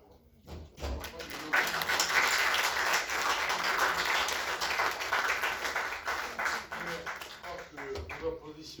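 Audience applauding after a lecture on Jean Jaurès and humanism, a broad wash of many hands clapping that swells after a quiet start, steady and fairly close, with some voices faintly mixed in.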